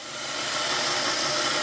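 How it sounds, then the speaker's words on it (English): A 2x72 belt grinder takes excess material off the curved back of a Bowie knife handle, giving a loud, steady broadband whir and hiss that holds without a break and swells a little near the start. "Just now removing the excess material with the belt grinder"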